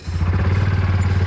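A motorbike on the hills of Sao Jorge runs close by with a loud low chugging engine pulse, steady and rhythmic over the brief moment, with no talking.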